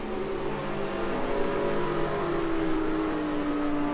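Porsche GT race car at Silverstone GP during a British GT race, its engine note loud and sustained as it holds speed, the pitch gliding slowly downward as it moves away, with other car noise behind.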